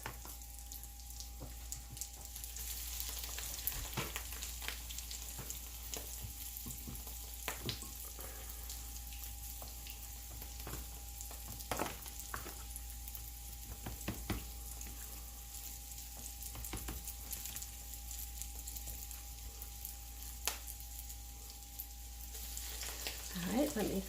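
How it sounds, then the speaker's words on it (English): Green tomatoes sizzle quietly and steadily in a pan, with a few faint clinks and knocks scattered throughout. "they're frying away"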